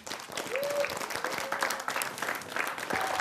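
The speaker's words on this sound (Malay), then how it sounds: "berikan tepukan" Studio audience applause on a television show, a lively burst of many people clapping with a few cheers or whistles on top, sustained for several seconds.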